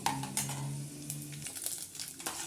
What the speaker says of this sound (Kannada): ಚೆನ್ನಾಗಿ ಅದನ್ನು ಒಗ್ಗರಣೆಯಲ್ಲಿ ಫ್ರೈ ಮಾಡ್ಕೊತಾರೆ